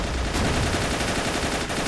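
Dense, loud battle noise from a mortar or anti-tank hit in Men of War: Assault Squad 2, set in 1942 Stalingrad: a continuous roar of close gunfire and blasts that never lets up, with no talk.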